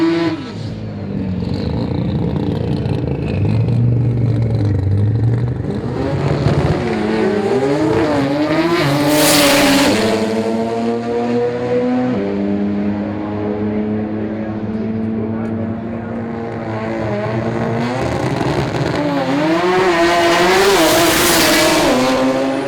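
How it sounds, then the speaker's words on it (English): A new Mazda RX-8 drag car running a full pass on a sport compact drag strip in Melbourne: a loud, high-pitched engine climbs through repeated gear changes, with tire squeal and two bright bursts, and it stays close and dominant throughout. "Simon Ionu of ProMaz Automotive had his new RX-8 drag car out for his first full passes"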